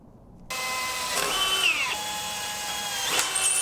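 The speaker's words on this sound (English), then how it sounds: "Now I just need to figure out how far up I want to drill these holes on here" A power drill bores holes in metal for a homemade ice fishing track sled, starting abruptly and whining loud and steady with shifting pitch as it cuts.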